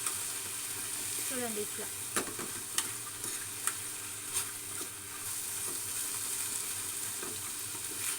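Chutney ingredients fry and get stirred in a pan with a soft, steady sizzle and occasional spoon clicks against the metal, while a voice talks briefly over the cooking.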